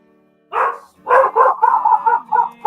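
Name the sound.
dog barking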